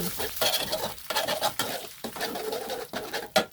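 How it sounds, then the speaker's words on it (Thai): Egg and glass noodles are stir-fried in a smoking-hot wok, with a steady sizzle broken by repeated scraping and stirring strokes, heard close and moderately loud with no talking. "เราก็ผัดจนไข่สุก ไข่สุกนิดหน่อยแล้วก็เอาวุ้นเส้นลงไปเลยค่ะ"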